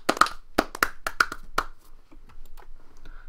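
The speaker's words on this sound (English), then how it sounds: "A small round of applause echoes around the garage." A short, sparse round of clapping from a video game, If My Heart Had Wings, a few sharp claps in quick bursts that thin out and fade after a couple of seconds.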